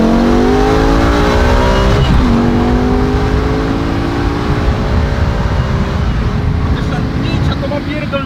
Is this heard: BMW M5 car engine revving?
yes